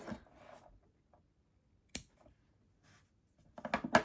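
Scissors snipping off a yarn tail on a crochet backpack, with one crisp close cut followed by a quicker flurry of small snips a moment later, set in near silence.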